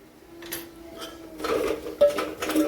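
Spices such as red chilli powder and black masala being stirred into cluster bean curry in a pan, giving soft scraping and light metallic clinks that grow busier toward the end, fairly faint and close, with no talking.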